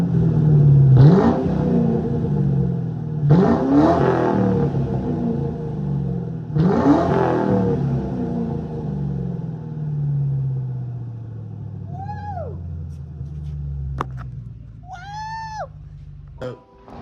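A 2003 Ford Mustang GT V8 engine with new MSD coils revs three times in quick bursts, each rising sharply then settling back to a low rumbling idle; brief voices chirp near the end.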